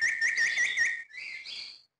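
A caged myna bird imitates the creak of a door swinging open in two close, clear whistled phrases: a wavering, warbling one, then a shorter gliding one, with no talk.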